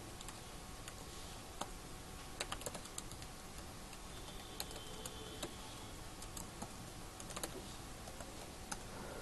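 Computer keyboard typing while writing a C++ program, quiet rapid key clicks in uneven bursts over a steady background hiss, close by, with no talking.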